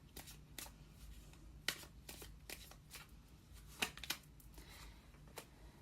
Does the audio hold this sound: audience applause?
no